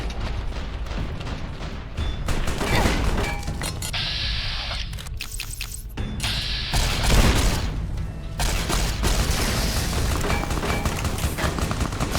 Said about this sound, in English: What the hell exploded there?